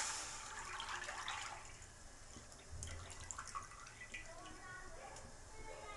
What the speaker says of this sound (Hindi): कढ़ाई गर्म हो चुकी है, इसमें हम चाशनी डाल देंगे